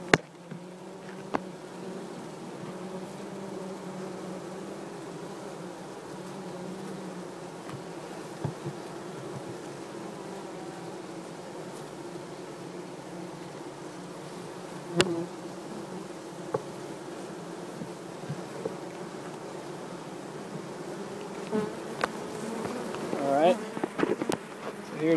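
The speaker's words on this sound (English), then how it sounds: "The bees are all over this frame." Honey bees swarm over hive frames during a removal of a colony from house eaves, a dense continuous buzzing hum close by with occasional bumps and handling noises.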